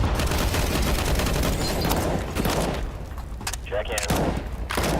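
Heavy gunfire and a booming blast in a video game, loud dense shots filling the first half, a dip, then another strong burst, with a voice speaking briefly.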